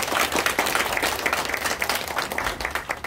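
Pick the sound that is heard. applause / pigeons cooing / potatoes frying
applause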